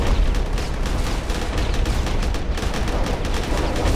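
Missiles strike a spaceship in the space combat game Starfarer, making a dense, continuous barrage of rapid impacts and blasts at steady high loudness for several seconds.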